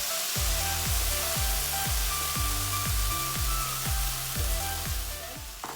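Potatoes fry in oil in a pan with garlic and onion, giving a steady, close sizzle, while a utensil scrapes and stirs in a regular rhythm throughout.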